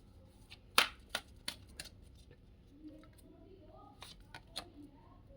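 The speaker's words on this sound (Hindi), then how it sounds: "एक कार्ड और लूँगी बस, एक कार्ड और लूँगी।" Tarot cards being shuffled and handled, a sharp riffle burst early followed by scattered soft card snaps and taps, with faint quiet speech in the background.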